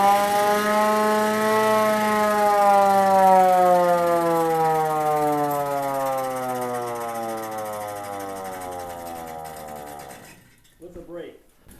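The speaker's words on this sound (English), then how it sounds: "And then of course the hand crank siren." A hand-cranked siren on an American LaFrance fire engine winds up to a loud, steady wail, then slowly drops in pitch as it winds down over several seconds, followed by brief clatter.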